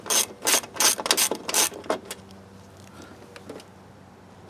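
A ratchet wrench removing a bolt on a Volvo S60 T5 during an AC condenser swap, about six loud close clicking bursts in a row, then fainter scattered clicks.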